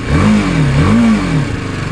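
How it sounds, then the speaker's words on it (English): A 2021 BMW G 310 R motorcycle exhaust growls up close, the engine note rising and falling in a couple of short, throaty revs. "exhaust sound is so smooth,"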